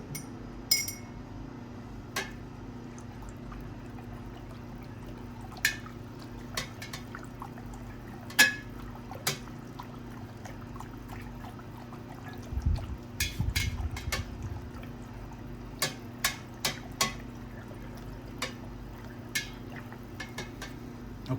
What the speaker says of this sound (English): Let me give this a stir.